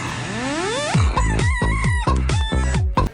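A person imitates a chicken in a theatre body-expression class, opening with a rising crow-like call, then a series of loud, rhythmic clucks, close and alone.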